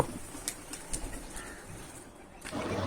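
Pigeons gather on a rooftop to be fed, with soft intermittent cooing and brief wing flutters over a steady outdoor background, fairly faint and without any talking.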